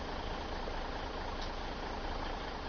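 A truck engine in Farming Simulator 17 idles with a steady, low, continuous rumble that stays even throughout, with no voices.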